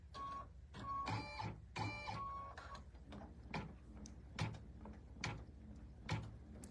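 An embroidery machine stitches out a mug rug design, giving a steady mechanical run of repeated thumping needle strokes and whirring, close and moderately loud with no speech over it.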